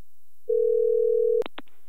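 A single steady telephone tone holds for about a second, then cuts off into a couple of short clicks as a call to a radio host connects.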